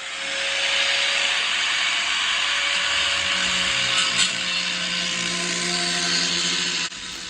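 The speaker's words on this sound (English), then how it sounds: "Using that flat edge of the angle grinder really provides some precision." An angle grinder smooths the edge of a cafe racer motorcycle's chopped fender with the flat of its wheel, giving a steady, loud abrasive hiss with a constant whine. It runs close and unbroken for several seconds before a brief dip near the end.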